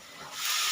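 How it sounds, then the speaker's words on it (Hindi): Vegetables sizzle loudly in hot oil as they are tempered in a pan, a steady hiss that swells and grows stronger over under a second. "तो सब्जी मैंने छौंक दी है"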